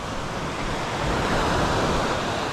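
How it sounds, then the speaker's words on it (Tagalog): Stormy sea surf crashes onto a shore with driftwood along the edge while wind blows, producing a loud, continuous roar that swells midway through. "hanggang ngayon bumabagyo pa sa amin"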